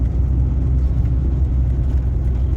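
A car drives along a road toward Poltava oblast, heard from inside as a steady low engine and road rumble that stays constant and fairly loud throughout, with no talking.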